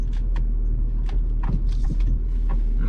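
A car slowly reverses onto the roadside just off a highway, a low engine rumble close by with scattered small clicks and tire crunches and no talking.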